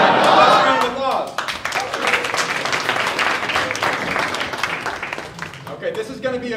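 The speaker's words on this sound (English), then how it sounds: "Let's round of applause." Audience applause at a comedy theater show, a sustained burst of clapping from a crowd lasting several seconds, with a voice speaking over the start and voices returning as it fades.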